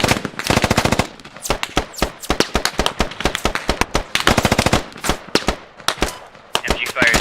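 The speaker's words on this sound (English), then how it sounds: "MG fire is now on track." Machine gun fire at a military drill rattles in rapid close bursts, long strings of sharp loud shots separated by brief pauses, with fainter firing in the background.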